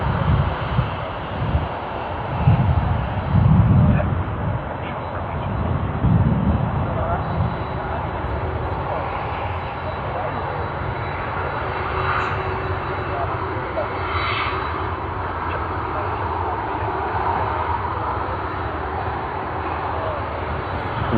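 A Cathay Pacific Boeing 777-300 jet at Sydney Airport rumbles as a steady, moderately loud engine roar that swells briefly early on, with people talking at times over it.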